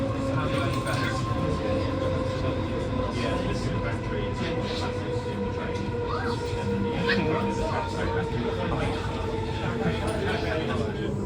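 A GWR Class 230 battery train, a converted D-train unit, runs steadily on the Greenford branch, its continuous rumble and rail noise filling the carriage with faint hums, while voices talk over it throughout.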